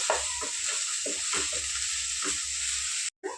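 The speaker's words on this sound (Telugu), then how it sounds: "అల్లం పేస్ట్ కూడా కొంచెం బాగా ఫ్రై చేసుకున్నామండి." Ginger-garlic paste sizzles in a pan with onions and curry leaves, a bright constant hiss broken by regular scraping strokes of a spoon roughly every half second, close and alone with no voices.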